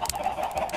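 A Minecraft chicken clucks in short repeated bursts, clear and close, with no talking over it.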